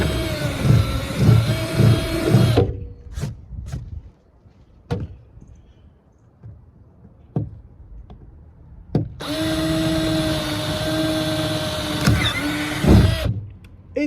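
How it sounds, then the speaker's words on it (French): An electric drill bores holes in bursts, two long loud whirring runs near the start and end separated by a quiet gap with scattered knocks and clicks, with no talk. "je vais continuer à percer ça"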